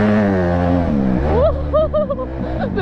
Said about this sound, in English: The DRZ in the sand is so sketchy. Yo, look at that DRZ spinning.